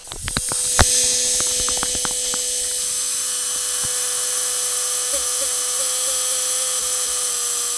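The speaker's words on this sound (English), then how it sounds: "you can now see the pump is operating" A three-phase electric fuel pump runs with a steady, close mechanical whine and a fine hiss, holding an even level throughout with a few faint clicks early on.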